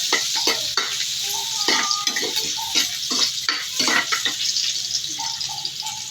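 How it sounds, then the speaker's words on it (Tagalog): Onion and garlic sauté in oil in a pan, a steady close sizzle broken up by frequent scraping and clinking from a stirring utensil. "Ang ating ginisang sibuyas at bawang."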